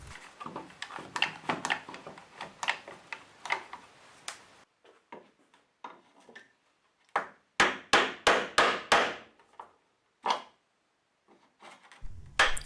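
A chisel is driven into a wooden garden gate frame to chop a mortise, with a steady run of close, crisp mallet strikes, a quieter pause of lighter taps, then another loud rhythmic volley.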